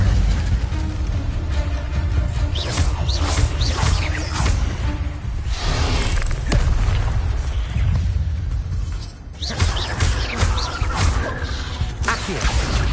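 Incendio fire spells cast in Hogwarts Legacy, a run of loud booming bursts and whooshing blasts layered over dense, busy game sound, with a short dip before the blasts resume.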